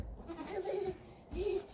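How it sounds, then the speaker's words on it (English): Goats bleat indoors in a pen, two drawn-out wavering cries at close range, one after another, with quiet room noise between them and no talking. "What do you think of the goats?"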